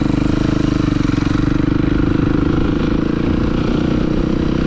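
A motorcycle engine runs close and loud while the rider lifts it into a wheelie, a rough, throbbing exhaust note held steady on the throttle throughout, with no talk.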